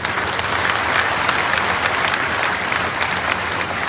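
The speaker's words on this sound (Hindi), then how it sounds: "जोरदार तालियां।" An audience at a political address in Una breaks into strong, sustained applause, a thick and even wash of clapping that holds at a constant loudness for the whole stretch.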